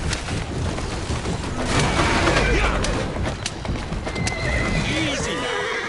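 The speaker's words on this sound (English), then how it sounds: "Who's a good horse?" A horse whinnies repeatedly in the video game Assassin's Creed Syndicate, loud and continuous over dense game background sound and clip-clopping hooves, with voices speaking.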